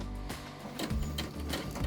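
A sewing machine stitches quilt fabric pieces for a Sunset Flight quilt, a close, steady mechanical whirring and clatter with a few short pauses and restarts.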